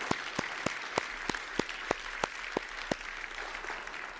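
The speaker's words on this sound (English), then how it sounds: "can we just take a moment and applaud each other and all the work that's gone into making tonight possible?" Applause from an audience at a community evening conversation on gun violence, a steady wash of clapping with distinct sharp claps standing out at an even rhythm, moderately distant and sustained throughout without voices.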